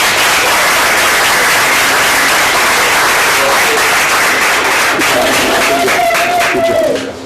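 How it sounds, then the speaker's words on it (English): A room at a regular school board meeting erupts in loud, sustained applause, dense and close, with voices calling out over the clapping before it cuts off. "So let's just give them a round of applause."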